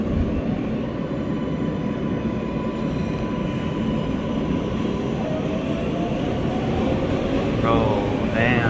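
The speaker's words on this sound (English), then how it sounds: "when the train slows down, man, the propulsion is God. Listen to that" An R143 L train on the New York City subway rumbles along as it slows, its propulsion drone and a rising electric whine heard steadily from inside the car, with faint wheel squeal near the end.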